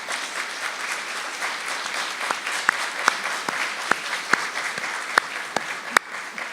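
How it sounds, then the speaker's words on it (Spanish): Audience applause during a lecture on labour law: a soft, continuous patter of many hands with several sharper, louder individual claps standing out, fairly distant in the hall. "veo que aplauden porque ya quieren que termine"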